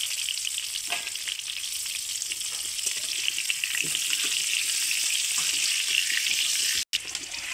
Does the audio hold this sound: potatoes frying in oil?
yes